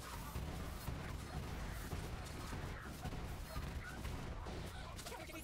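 Rapid bursts of gunfire from the video game Borderlands 3, a dense crackling volley of repeated shots at steady loud level.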